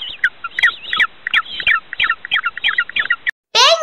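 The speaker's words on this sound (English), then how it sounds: "Penguin." A penguin calls in a fast run of sharp, chirping squawks in quick rhythmic bursts, close and loud. After a short gap, a harsher, drawn-out squawk follows, and no voices are heard.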